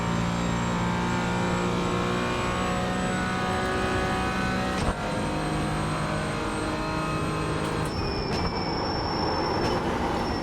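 A car racing around a track sends a continuous engine drone, heard from inside the car, at a fairly steady pitch, broken by one brief knock midway and a pitch shift later.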